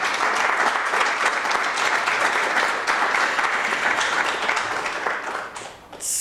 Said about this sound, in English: I think we can give him another hand of applause.